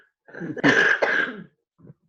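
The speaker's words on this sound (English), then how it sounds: "caught my cough" A single harsh cough, close and loud, followed by a brief softer throat sound.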